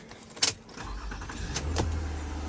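A 2008 second-generation Toyota Kluger engine starting after a starter motor replacement: a brief click and crank, then the engine catching and settling into a low, steady idle close by.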